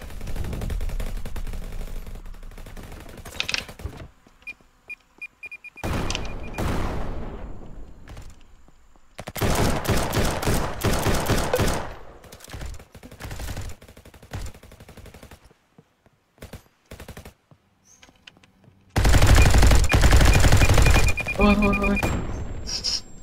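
Gunfire in the Roblox game RF Legacy comes in loud bursts of rapid automatic shots and booming reports, separated by quieter gaps, with some voice activity between the volleys.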